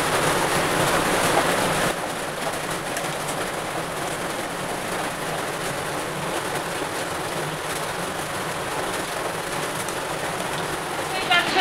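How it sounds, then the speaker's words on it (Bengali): Heavy rain drums steadily on the roof of a train, a dense, continuous wash of noise with no breaks, a little louder for the first couple of seconds before settling. "এত বৃষ্টি হচ্ছে, তোমরা বৃষ্টির আওয়াজ হয়তো পাচ্ছ"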